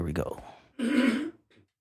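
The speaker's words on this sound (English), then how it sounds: "I got to clear my throat anyway" Someone clears their throat in a short, throaty rasp, a brief pause, then one more firm clearing burst, close and fairly loud, fading into quiet at the end.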